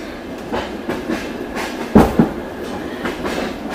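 A passenger train rides along the rails, with steady low rumble and rhythmic clickety-clack thumps repeating every half second or so, one louder double knock near the middle, heard from inside a carriage with no talk.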